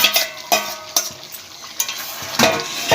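Fried yam pieces tumble into chicken already simmering in oil and get stirred in a pan, a loud close sizzle punctuated by several quick scraping stirs in uneven rhythm.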